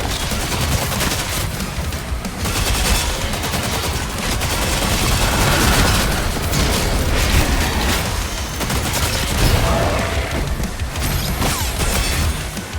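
Sustained rapid gunfire in the video game DOOM: The Dark Ages, dense and loud with booms and crashes layered throughout, continuous for the whole stretch with no talking.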